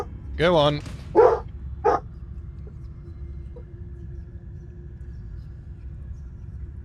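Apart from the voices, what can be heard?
dog barking and whining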